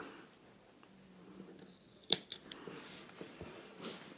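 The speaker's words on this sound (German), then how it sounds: "Und dann machen wir so kleine Einschnitte, die bis kurz vor die Naht gehen." Scissors make small snips into a fabric seam allowance while sewing a dress, giving a few quiet, close, sharp clicks spaced irregularly against a near-silent background.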